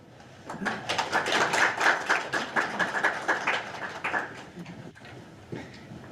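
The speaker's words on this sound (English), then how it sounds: "Thanks for the round of applause for Jane." A small conference audience applauds a speaker after her talk, a modest, distinct patter of hand claps in a room that rises, holds briefly and then thins out, with faint voices near the end.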